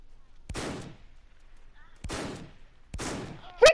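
Three sharp gunshots from a PS4 shooter game, evenly spaced about a second and a half apart, each a loud broadband crack with a short decaying tail, followed by a brief electronic chirp.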